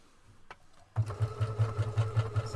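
Creative 1.5 sewing machine stitching a design with thread cut, starting after a brief pause with a quick regular thumping needle rhythm and motor whir, close and steady.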